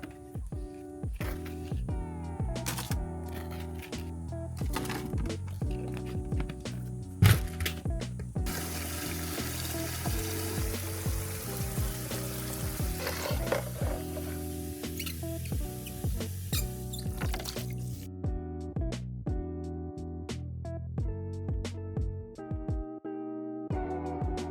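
Watering cans filling from a backyard tap before fertilizing summer flower pots and containers, a steady rushing water stream over faint clanks and shuffles, with the flow's pitch shifting midway as a can fills.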